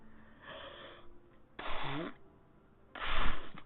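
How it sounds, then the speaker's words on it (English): A person sneezing, with two or three sharp, breathy bursts set close to the microphone and separated by short pauses. "That's a sneeze."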